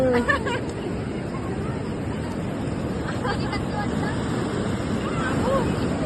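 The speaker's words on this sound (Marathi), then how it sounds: "लाटा खूप जोरात यायला लागला." Strong high-tide sea waves roll and break continuously on the beach at Guhagar, Ratnagiri, a steady roar with wind buffeting the microphone and people talking over it.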